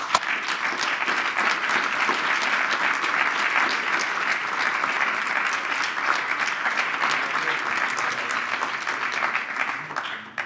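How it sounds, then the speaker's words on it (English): Sustained, loud applause from a conference audience at a closing ceremony, honoring the event organizers; dense, steady clapping fills the whole stretch without a break. "give a really big applause to the organizers, Claudia Kutner and Tomo Pisanski and their team."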